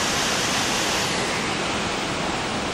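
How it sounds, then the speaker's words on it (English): A mountain waterfall beside a rocky track in southern France roars as a steady, dense rush of white water, loud and close throughout, with no voices. "Huge piles of boulders on that side and the waterfall on that side."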